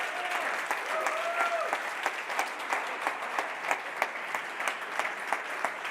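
At a startup accelerator demo day, an audience claps for the winning team in steady applause, with some crisper individual claps standing out near the end and a brief voice early on.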